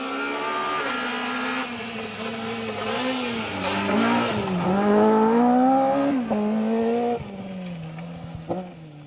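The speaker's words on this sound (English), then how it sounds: "we're just waiting for one more car through here" Rally car racing through the first special stage of the 2023 Cambrian Rally, its engine loud and close as it revs hard and changes gear, with pitch rising and falling through several shifts before fading away.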